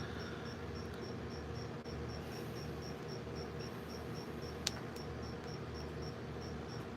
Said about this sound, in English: I'm listening into the crickets